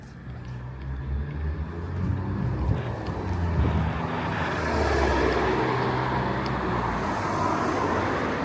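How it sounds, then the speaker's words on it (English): Cars passing along a street in Cholul, Mexico, a steady rolling traffic rumble that swells as vehicles go by, heard from the roadside while walking. "I don't know if you're paying attention to the cars that are driving around here"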